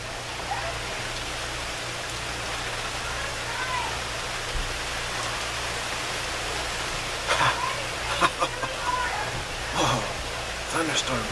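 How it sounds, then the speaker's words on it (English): Steady rain from a thunderstorm that has just begun, a dense hiss of falling drops with a low hum underneath, and a few brief louder spatters toward the end. "thunderstorm just started."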